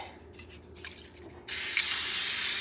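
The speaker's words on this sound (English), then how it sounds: "Just a little spray, you don't go crazy." Cooking spray hisses onto a large baking pan in a home kitchen, a loud steady burst starting midway and running to the end after faint handling sounds.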